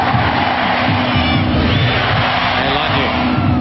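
A huge stadium crowd at Stanford roars and cheers at a Women's World Cup semifinal between the USA and Brazil, a dense sustained wall of voices close and loud throughout.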